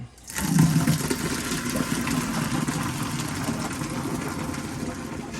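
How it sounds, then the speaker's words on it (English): Boiled nokedli, Hungarian egg-noodle dumplings, are poured into a strainer. The water rushes in a steady, close, loud pour that starts suddenly and holds for several seconds. "our pasta came to a boil, so we're going to want to strain it"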